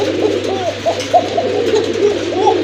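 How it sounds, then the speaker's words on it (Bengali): A pair of koka pigeons coo repeatedly at close range, several rolling, throaty calls following one another over a low steady background hum. "অনেকদিন পরে এক জোড়া কোকা কবুতর দেখলাম যেগুলো কিন্তু প্রচুর ডাকে"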